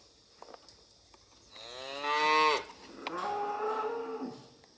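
Calves moo loudly on weaning day at a Korean cattle farm, two drawn-out, wavering calls close by, the second slightly softer, with no talk over them.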